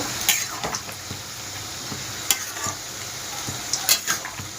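A spoon stirs chopped coriander leaves into a vegetarian jackfruit curry in a pan. Soft sizzling sits under a few sharp clinks and scrapes of the spoon against metal, close and fairly quiet, with no voices.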